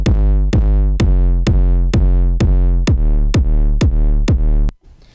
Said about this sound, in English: without that side chain, we have a lot of clashing